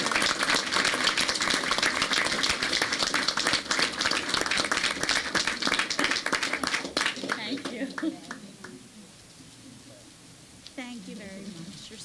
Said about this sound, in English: I could have a round of applause for everyone.